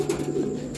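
A Dutch King pigeon gives a short, low, close coo, a brief throaty murmur heard alone.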